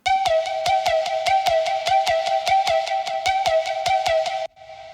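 A dubstep synth melody for a fake-out section: a bright, bell-like plucked lead repeating fast, evenly spaced notes with heavy delay and reverb, loud and alone, cutting off into a short echoing tail.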